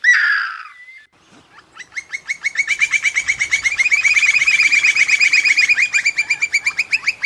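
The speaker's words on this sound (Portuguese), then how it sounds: "Olha os passarinhos cantando." Small birds singing at a rural festival, a rapid run of repeated bright chirps building into a steady trill for several seconds after one short opening call, loud and close with no talk.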